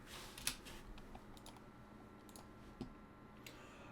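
A few sparse, faint keystrokes on a computer keyboard, single clicks spaced well apart in a quiet room.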